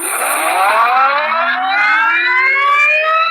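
A rising, whining motor tone from a Tromox Ukko S+ electric motorcycle climbs steadily in pitch as it accelerates, loud and continuous with layered harmonic overtones.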